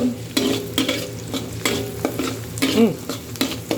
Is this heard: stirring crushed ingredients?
yes